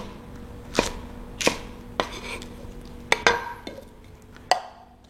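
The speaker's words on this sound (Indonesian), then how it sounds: "bawang merah, cabai beberapa, kita potong kecil-kecil" Shallots and chilies being cut into small pieces for a potato dish, giving a series of sharp knife-on-board chops, irregularly spaced, close and clear with no talking.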